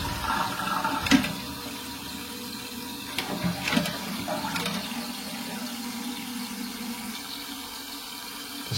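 A toilet cistern flushes after its flush button is pressed, water rushing and draining at moderate volume, followed by the tank refilling with a steady running and filling sound.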